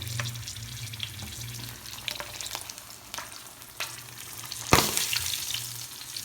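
Tempering for chana dal sizzling and spattering in a pan, a steady frying crackle with scattered pops and one sharp louder spatter near the end, close by and with no talking.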